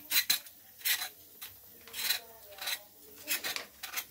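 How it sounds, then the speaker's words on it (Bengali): A thin peel is scraped off a pointed gourd (patol) in short, rhythmic rasping strokes, close and fairly quiet, with brief pauses between passes. "এই প্রথমে আমি করে পাতলা খোসাটাকে বের করে দিচ্ছি।"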